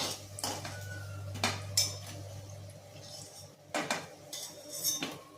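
Fried kalla leaf fritters are lifted one by one from a pan, producing a series of sharp metallic clinks and scrapes of a utensil against the pan over a low background hum.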